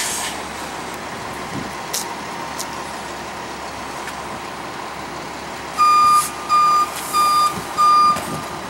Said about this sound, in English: I'm filming the bus.